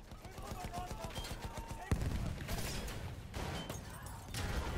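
Gunfire and clanking in a Battlefield 1 battle as a repair tool strikes a tank, with rapid shots, a sharp metallic impact midway and dense combat noise afterward.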